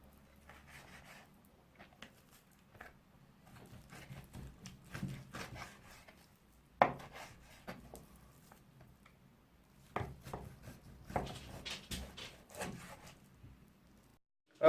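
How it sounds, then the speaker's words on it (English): Beef for a Thai stew is cut into large pieces on a board, with soft, scattered knife chops and scrapes heard close up at a low level, without speech. "now that you've got your meat cut up into pieces"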